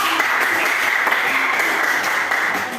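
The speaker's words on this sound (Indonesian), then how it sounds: "Tepuk tangan." Students in a classroom clap together, a loud close burst of many hands beating steadily for a few seconds before tapering off at the end.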